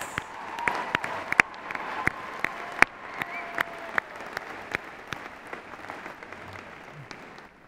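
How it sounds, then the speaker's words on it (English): Graduation ceremony crowd applause for honored students fills the room, a sustained even patter of many hands with a few louder nearby claps popping out, fading slightly at the end. "Let's have another round of applause for these outstanding students."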